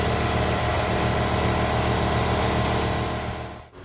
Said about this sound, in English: Just running the flap wheel in here, kind of an awkward angle.